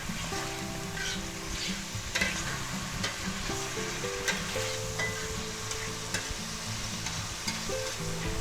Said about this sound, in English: we're going to take our shiitake mushrooms, you know, they're 4 ounces, we're going to put them right in there. Okay? Stir them around a little bit.